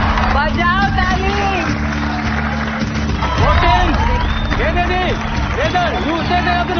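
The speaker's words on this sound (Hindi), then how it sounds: "बजाओ ताली।" A crowd claps and cheers at a kabaddi match between India and Iran, a busy roar of applause and babble with shouted voices and whistling tones rising over it.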